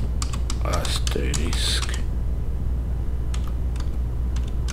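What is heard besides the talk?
typing a script name on a computer keyboard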